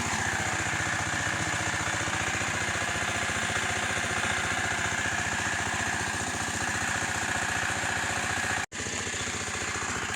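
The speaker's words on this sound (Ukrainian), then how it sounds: "Ось йде фреза мотоблока третій раз в теплиці" A walk-behind tractor's rotary tiller churns soil inside a greenhouse being prepared for radish sowing, its steady close engine drone and rumbling blades running continuously, with one brief dropout near the end.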